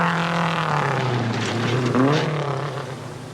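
A worn-sounding rally car engine from a 1984 New Zealand rally roars loudly as it passes, its strained pitch rising and falling under acceleration, then fading slightly as it moves away.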